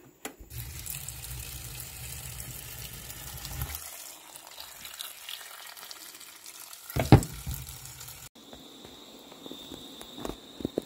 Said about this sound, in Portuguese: Vou colocar água até cobrir aqui os maxixes.